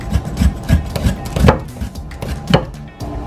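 A cheap Dollar Tree vegetable peeler scraping along a sweet potato in a series of short rasping strokes, about six or seven uneven passes, close and fairly loud.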